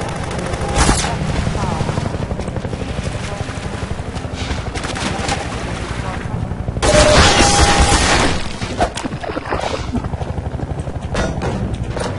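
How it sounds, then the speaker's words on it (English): A combat helicopter in Half-Life 2 roars overhead amid rapid machine-gun bursts and heavy booms, loud and continuous, with a sharp surge of gunfire partway through. "Oh great, they're sending in helicopters."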